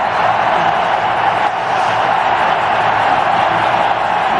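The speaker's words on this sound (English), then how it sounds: "Have a look at the crowd. The noise here in Nagpur is deafening to the ear." A dense, roaring cricket crowd in Nagpur cheers a six, a steady wall of noise that holds loud and unbroken throughout.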